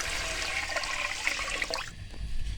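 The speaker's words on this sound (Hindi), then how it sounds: "आधा किलो हमारे चावल हैं, हम तकरीबन 3 पाव उसमें पानी शामिल कर देंगे" Water poured into half a kilo of rice for khichri with mash daal, a continuous close splashing rush of liquid that runs for about two seconds, then cuts to a lower rumble.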